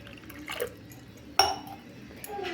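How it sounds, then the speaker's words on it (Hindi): A little water is poured into a glass of jaggery and lemon mixture, giving a few brief, quiet splashes and drips in a kitchen. "सब किछि मु अल्प पानी मिसौची।"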